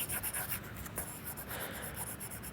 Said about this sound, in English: So let me just erase everything here.